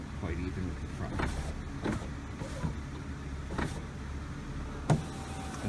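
Power window motor in a Mercedes W163 ML-Class raising and lowering the glass, a steady low whir running under several short clicks and knocks, close by.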